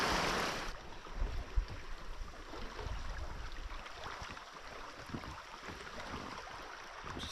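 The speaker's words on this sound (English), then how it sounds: "so got a lot more water in the river now. A lot easier to row." Water rushing and lapping steadily around a solo rowed boat on the Gulkana River, swollen below a fork confluence, with a broad continuous wash and occasional soft splashes throughout.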